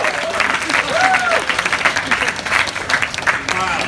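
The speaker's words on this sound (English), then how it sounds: "can we just give another massive round of applause" An audience at a mountain festival talk applauds loudly and steadily, a dense close wash of clapping with a voice speaking over it.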